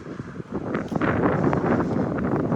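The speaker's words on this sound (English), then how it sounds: "Very windy today" Wind buffeting the microphone in steady gusts at an outdoor car wash, a loud low rumble with no voices.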